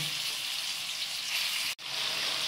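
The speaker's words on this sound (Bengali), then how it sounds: "সব শেষে আমি চিংড়ি মাছটা ভাজবো" Prawns frying in hot oil in a home kitchen for a Bengali dish, giving a steady, dense sizzle with no voices, broken once by a brief dropout near the end.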